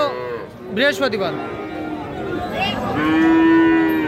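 Friesian and crossbred heifer calves moo repeatedly at the Raniganj cattle market in Ghoraghat, Dinajpur. Several loud, drawn-out calls sound close by, with a long one near the end, while people talk in the background.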